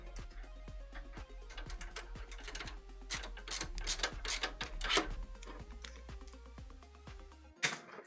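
A screwdriver driving screws while a PC is assembled, giving a fast rattling ratchet-like clicking that comes in repeated runs, close and fairly loud, with a sharp knock near the end.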